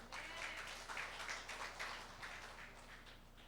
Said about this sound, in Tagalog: Palakpakan natin si Jesus